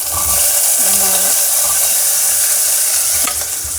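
Loud, steady sizzling and crackling of onions, garlic and curry leaves sautéing in a hot pan, continuous throughout with faint scraping of stirring.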